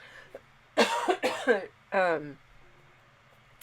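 A few harsh, raspy coughs from someone with a cold, close up, one burst of three or four followed by a single longer cough, then quiet room hiss.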